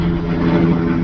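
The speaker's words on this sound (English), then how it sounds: "Stop flying above me. You stupid helicopter." A helicopter flies overhead in a steady, loud droning whir with a continuous engine rumble filling the short moment.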